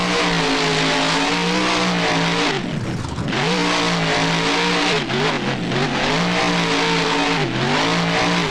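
A monster truck in the BeamNG driving game spins donuts in a boneyard freestyle arena, its engine revving loudly and continuously, the pitch dipping and climbing with each throttle swing.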